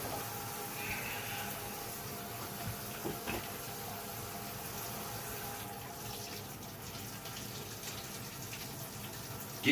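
Very hot water runs steadily from a kitchen tap for cleaning a cast iron pan, a constant close rushing stream with no pauses.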